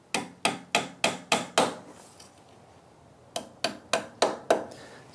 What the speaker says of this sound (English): just a nail that I've sharpened to the end, and it acts as a nice little punch, just to punch it in with